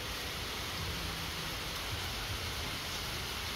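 Rain falling steadily outdoors in a garden where apricot blossom trees are grafted, a soft constant hiss without talk.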